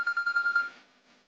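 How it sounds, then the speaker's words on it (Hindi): A phone rings in a rapid, steady trill that repeats for about half a second and then fades away, with no voices over it. "अभी नाम लिया और फोन भी आ गया।"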